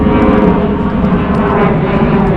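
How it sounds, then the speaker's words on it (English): Airplane passing overhead above a canal in Scotland during a perch fishing outing, a steady broad engine roar that stays constant and fairly loud. "there's the plane"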